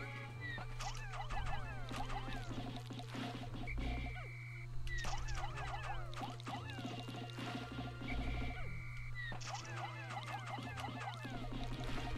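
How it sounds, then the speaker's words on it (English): Frogs croak repeatedly in a Pikmin video game, a dense chorus of rhythmic croaks and chirps over steady game music and a low hum, moderately loud throughout. "now you see why these frogs are annoying"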